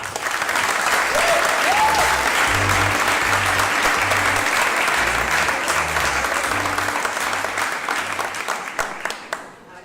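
A live audience at a talk gives a loud, sustained round of applause welcoming a speaker, dense clapping continuing for several seconds before tapering off at the end.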